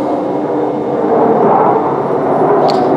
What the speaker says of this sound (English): if you hear those jet planes out there